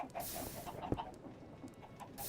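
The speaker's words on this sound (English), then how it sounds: "chicken farm, though I've considered automating it for a more compact mob farm for chickens." Chickens on a Minecraft chicken farm cluck faintly and intermittently in the video game, set against a quiet, noisy background with one brief sharp click.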